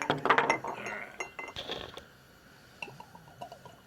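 Glassware clinks and taps several times as Colonel E.H. Taylor Small Batch Bottled in Bond bourbon whiskey is poured, the clatter busiest at the start, then a few scattered lighter clinks, with faint voices in the background.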